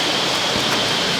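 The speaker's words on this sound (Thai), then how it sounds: "แต่เสียดายนี่ฝนตก" Steady rain falls outdoors near a waterfall, a dense broadband hiss that stays even and close throughout with no voices over it.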